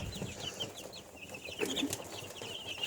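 Chicks and chickens cluck and peep softly around a farmyard, with scattered high chirps and a few lower clucks over steady background noise, moderately close.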